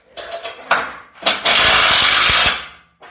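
A power tool drives screws during rear frame half replacement on a 1955 Chevy, short bursts followed by one loud sustained whir of about a second, close up.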